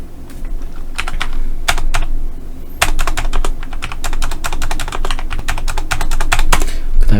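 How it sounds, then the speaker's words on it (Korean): Rapid typing on a computer keyboard while entering data into an Excel spreadsheet, close and loud, a dense run of clattering keystrokes with a short pause before it resumes. "여기도 일단 타이핑 할게요"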